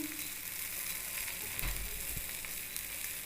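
Layered patty paratha frying in ghee on a hot pan right after being flipped, giving a steady close sizzle throughout with a few brief louder crackles and no talk.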